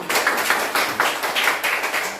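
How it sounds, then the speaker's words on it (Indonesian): Classroom children clap their hands together in a quick, uneven burst of close, sharp claps repeating for a couple of seconds, with no talking over it. "Kasih tepuk tangan untuk Milan."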